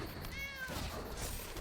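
A video game cat meows once when the Cat Lord card is played in Magic: The Gathering Arena. The meow is short and clear and rises and falls over a steady background of game sound.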